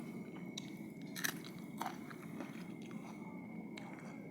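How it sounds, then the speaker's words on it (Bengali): Someone bites into a raw onion, with a few crisp crunches standing out and quieter chewing between them, close and fairly soft over low background noise. "পেঁয়াজ কামড় দিই"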